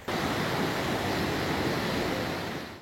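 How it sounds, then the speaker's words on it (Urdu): Floodwater from the Alambar stream surging into homes in Duki, Balochistan, a dense, steady roar of rushing water that holds loud and unbroken throughout, with no voices. "دکی میں علمبار ندی کا سیلابی پانی گھروں میں داخل ہو گیا ہے"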